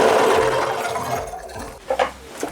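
A sewing machine stitches fabric for a Wednesday Addams cosplay outfit, giving a steady close whirring hum that eases off midway before a couple of brief louder bumps near the end.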